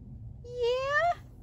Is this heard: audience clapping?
no